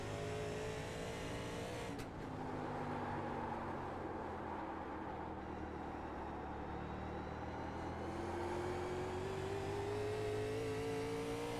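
Onboard engine of the number 55 stock car lapping North Wilkesboro, a loud steady drone that dips and rises again as it works through the turns, with no talking.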